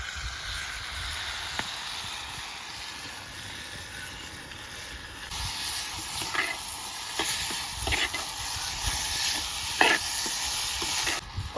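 Pounded country chicken goes into a hot pan for a village-style rasam, sizzling steadily and growing louder, with scraping stir strokes and clinks over the frying, no talking.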